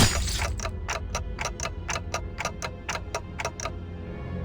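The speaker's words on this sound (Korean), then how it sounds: "아무래도 저 대가리엔 입까지는 없는 모양인데? 째깍거리는 소리만 들리네." A creature's head in the video game Limbus Company ticks like a clock, a dozen crisp, evenly spaced clicks in a steady rhythm over a low ambient drone.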